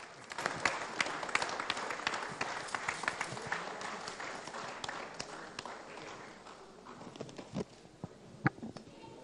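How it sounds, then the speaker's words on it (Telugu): Audience applause at a movie audio launch event, a dense burst of clapping that gradually thins into scattered individual claps, moderately distant and fairly quiet. "అందరూ కూడా గట్టిగా క్లాప్స్ అండి ఎవ్రీవన్."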